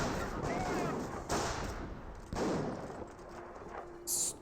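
Machine gun fire from the Company of Heroes strategy game comes in several heavy bursts over a constant roar of battle, with one sharp, brighter burst near the end.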